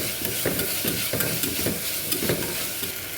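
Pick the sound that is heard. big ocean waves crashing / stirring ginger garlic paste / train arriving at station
stirring ginger garlic paste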